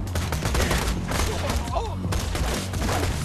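Rapid, sustained gunfire in the video game Borderlands 2, loud and near, with overlapping bursts of shots filling the whole stretch and no break.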